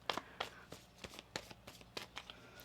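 Cards are shuffled quietly up close, a run of soft, quick riffling flutters in an uneven rhythm.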